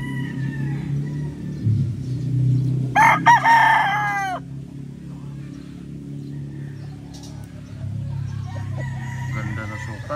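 A White Pit Boston Millionaire gamecock rooster crows once, a loud, near, rising-and-falling call lasting about a second, set against low background murmur and rustling.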